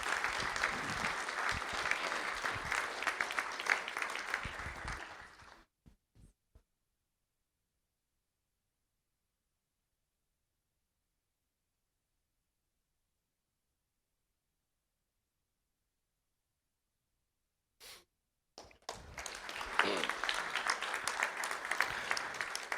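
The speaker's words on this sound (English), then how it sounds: "Let's give a big round of applause." A room at a school board trustees meeting breaks into steady applause that fades out, falls silent for a long stretch, then a fresh round of clapping rises again at the end.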